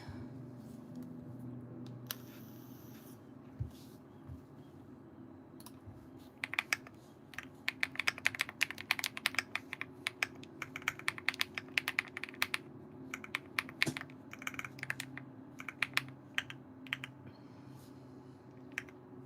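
Typing on a computer keyboard indoors, starting sparse and quiet, then bursts of rapid, crisp key clicks and clacks at close range, with a low steady hum underneath and no talking.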